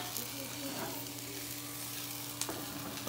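Marinated hamburger patties sizzle steadily on a flat griddle, a constant close crackling hiss with one brief sharper scrape or pop near the end.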